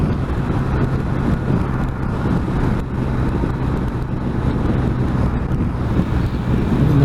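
A BMW R1250 RT motorcycle cruising at about 80 mph in sixth gear, heavy steady wind roar buffeting the microphone over a low engine drone, loud and continuous with no talk.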